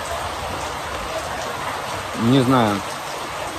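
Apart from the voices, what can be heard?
rain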